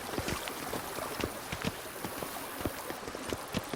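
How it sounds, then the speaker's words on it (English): A horse gallops in The Witcher 3: Blood and Wine, its hooves clip-clopping in a steady, quick rhythm of close, distinct beats over a soft ambient bed, with no voices. "Even a horse drops if you ride it at a constant gallop."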